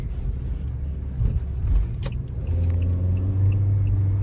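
A Toyota Corolla accelerating in sport mode, heard from inside as a loud, steady engine rumble and road noise whose tone rises and firms up partway through as the car pulls away.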